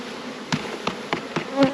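Honeybees buzz around an opened hive during a mite check, a loud close drone with several sharp flybys passing near.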